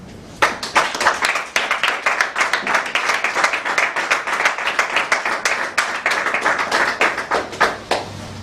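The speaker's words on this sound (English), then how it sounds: "Please help me under a warm applause to welcome Toastmaster Musa Traore" A small room of Toastmasters club members claps warmly to welcome a speaker, steady distinct hand claps close by, rhythmic and continuous without talk, stopping near the end.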